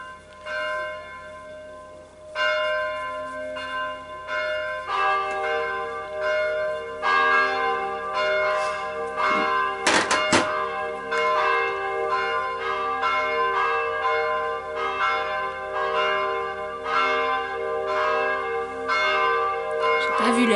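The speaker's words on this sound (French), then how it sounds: "Je pensais pas que les cloches allaient encore sonner." Church bells peal continuously and fairly loudly, several bells overlapping in a dense, ringing cascade with lingering hum, one especially strong strike near the middle.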